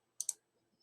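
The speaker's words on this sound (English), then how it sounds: "And let's see, click save." Two quick computer mouse clicks, close together and crisp, in an otherwise near-silent room, clicking a save button while setting up a network configuration.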